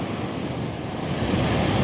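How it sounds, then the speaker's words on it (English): Big sea waves surging and crashing at Hayling Island under strong gusting wind that buffets the microphone, a loud continuous roar. "These waves are absolutely massive."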